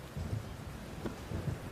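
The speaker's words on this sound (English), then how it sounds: "it starts raining" Rain pours steadily during a stormy evening drive home, with low rumbles of thunder rolling through at intervals over the constant hiss of the downpour.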